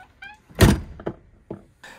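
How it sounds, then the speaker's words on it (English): Several heavy thunks from an RV's exterior storage compartment door slamming shut, one loud central bang followed by a few lighter knocks spaced across two seconds, with no talking. "the last thing we want to hear is compartment slamming."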